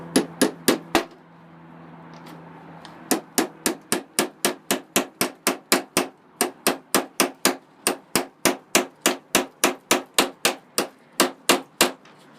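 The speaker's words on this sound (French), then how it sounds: "Donc on va déjà le planter donc avec le marteau quoi." A hammer drives a nail into a cupboard: a few strikes, a short pause, then a long steady run of sharp, loud, ringing blows, close up and with no talking.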